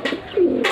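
A short, close coo from a Madrasi pigeon in a loft in Kolkata, soft and throaty, with a slight flutter at the end.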